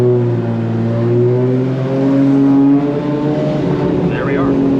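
A loud BMW E30 with a swapped Toyota 2JZ engine and dual-clutch transmission revs up, its pitch climbing steadily as it accelerates, then settles into a strained, rising drone.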